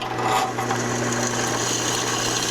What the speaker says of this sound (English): Drilling the second hole.